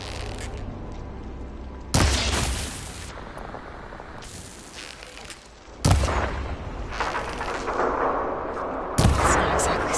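Shots aimed at a machine's arm coupling in the video game Horizon Forbidden West: three loud, sharp blasts spaced a few seconds apart, each followed by a rumbling, crackling tail over steady game ambience.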